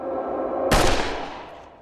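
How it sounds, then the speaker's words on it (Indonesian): A single sharp gunshot in a film scene, a sudden loud crack that decays quickly into a brief echoing tail over low background sound. "Salinger sangat kaget dan bertanya-tanya dari mana asal tembakan itu"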